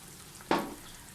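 Spice powder mixed with water poured into a hot pan with tempering for rasam gives one sudden sizzling burst that quickly fades to a soft hiss in a quiet kitchen.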